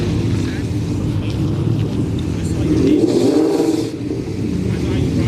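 A Mustang 5.0 and a turbocharged GMC Yukon race at a street-night drag event, engines roaring and revving loudly at a distance amid a broad crowd-and-track wash, with a commentator talking over it.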